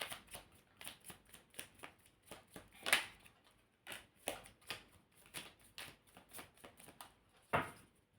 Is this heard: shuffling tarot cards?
yes